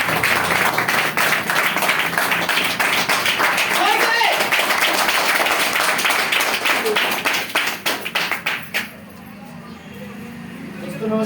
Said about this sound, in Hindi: तो उसके लिए जोरदार तालियां हो जाए।